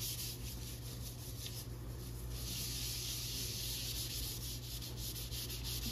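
Scrubber rubbed steadily across a white porcelain kitchen sink, a continuous close gritty scouring that pulses with each stroke, over a low constant hum and with no talking.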